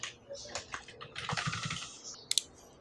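Fingers typing an email on a computer keyboard, with a quick, uneven patter of close key clicks and a couple of sharper taps at the end.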